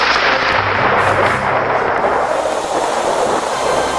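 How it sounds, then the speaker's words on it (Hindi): A deep, continuous rumble of thunder rolls on without a break, loud and broad, with no voices present. "बादल गरजने लगा, अब जरूर बारिश आएगा।"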